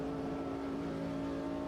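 A 1960s Formula 1 car engine in the AMS2 racing game, holding a steady loud rev under throttle with a strong continuous drone and no break or gear change.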